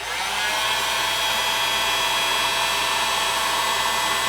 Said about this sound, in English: If it's really tight, you can try a little bit of heat with a heat gun.